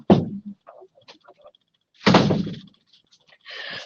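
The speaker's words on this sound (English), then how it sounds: "Let me just shut that door." An interior door swings shut with a solid thud up close, preceded by a few soft shuffles and a faint hiss afterward, with no talking.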